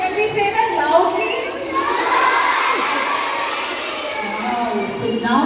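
A room full of children aged about six to fourteen shout a word loudly together in one long sustained unison yell that sounds like a cheering crowd.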